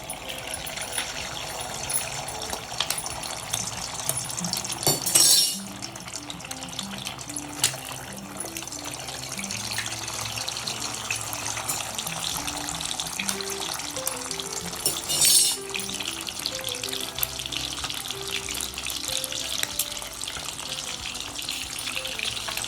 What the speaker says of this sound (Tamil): இதில் 3 முட்டையை உடச்சி ஊற்ற போகிறோம்